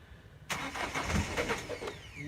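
Diesel van engine cranking on a cold start after the glow plugs have heated, a close, rapid rhythmic churning that starts suddenly and labours on without catching.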